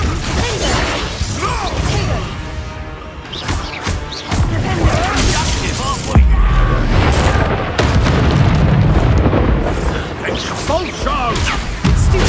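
Expulso explosion spells cast in the video game Hogwarts Legacy, with loud repeated booms and crashing impacts over a dense, busy battle mix, some bursts landing close together.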